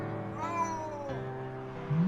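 A cat meows in the video game Simulacrum, a long, clear, drawn-out call followed by a second lower meow that rises at the end, close and loud with no talking over it.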